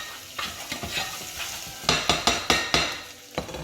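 Garlic and spices are stirred around a hot frying pan, with a steady sizzle broken by a run of sharp scraping strokes of a utensil against the pan, loud and close.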